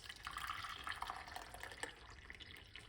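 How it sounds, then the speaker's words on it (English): Hot water poured into a cup of cloves, a faint, close trickle and splash of liquid that runs steadily and tapers off. "what we're going to do is pour some hot water on it like this."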